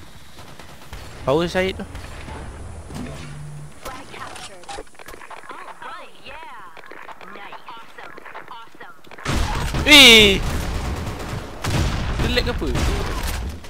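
Gunfire in the online shooter Blackshot during a competitive match: scattered shots early, then a loud dense burst of automatic fire near the end, with players talking throughout.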